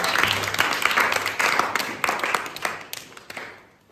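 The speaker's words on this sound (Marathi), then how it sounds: "अनुजासाठी पुन्हा एकदा टाळ्या वाजा" A group claps for Anuja after a puzzle game about dividing a figure into two equal parts: a few seconds of dense, steady applause, loud at first, then fading away.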